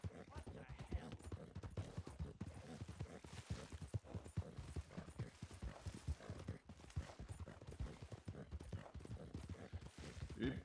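A horse ridden at speed in a western bounty mission video game, hooves clip-clopping in a fast, continuous rhythm close by, with scattered game noise around it and no speech.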